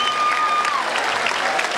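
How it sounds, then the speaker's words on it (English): An audience at a 1992 polka convention in a seaside convention hall breaks into brief, steady applause, a dense wash of clapping heard up close. "nice round of applause, all of our Mexican senoritas"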